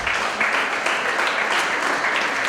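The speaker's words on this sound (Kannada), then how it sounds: "ಜೋರಾದ ಚಪ್ಪಾಳೆ ಹೊಡಿರಿ" Sustained applause from an audience at a quiz finals, cheering the winners with a steady, even clatter of many hands that holds throughout.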